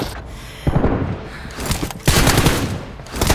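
Loud bursts of automatic gunfire in a mobile shooter video game during a team deathmatch, coming in dense clusters separated by brief lulls, with faint voices in the background.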